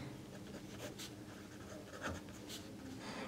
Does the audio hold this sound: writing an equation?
yes